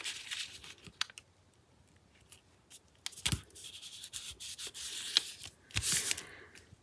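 Paper being cut for faux cabinet cards made with portrait paper dolls: soft scraping and rubbing with a few sharper snips and rustles, close and fairly quiet, with no talking.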